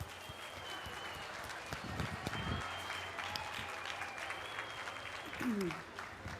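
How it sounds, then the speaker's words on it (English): Steady applause from an audience, a dense wash of clapping at moderate distance, fairly even throughout with no voices standing out. "giving him lots of applause, Dr. James Billington"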